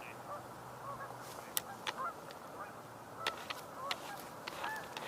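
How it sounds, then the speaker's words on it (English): Gadwall ducks calling on open water, faint and distant: scattered short nasal calls and honks over a steady background hiss, no talking. "I keep hearing those gadwalls."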